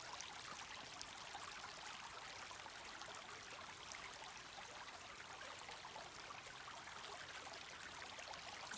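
Steady rushing and trickling of a creek flowing over rocks, continuous and fairly close, with no voices.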